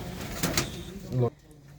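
A black-headed pet pigeon with yellow eyes gives a brief, low coo at close range, with a voice talking over part of it.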